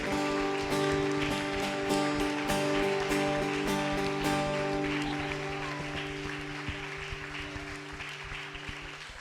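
A church congregation claps continuously over sustained musical tones during a Sunday morning service, a dense patter of applause that gradually fades and thins toward the end.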